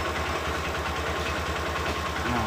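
A Honda Verza motorcycle engine idles steadily with its battery removed, a close, even low putter with regular firing pulses running throughout.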